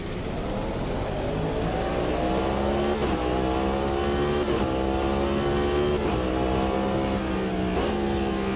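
A hypercar in the Le Mans Ultimate racing game on cold tires revs hard and loud. The engine pitch rises steadily through repeated upshifts about every one and a half seconds, with faint tire squeal, and no talk over it.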